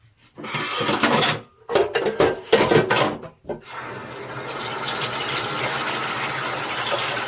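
Water runs from a tap into a dirty pan that is left to soak. First come short bursts of splashing and clatter, then a steady, close gush that fills the pan.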